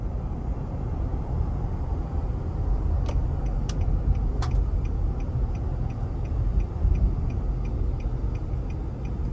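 Engine of a 2020 Nissan Armada Platinum SUV with a 5.6 liter engine pulling under acceleration, a steady low rumble with road noise inside the cabin and a few faint ticking clicks.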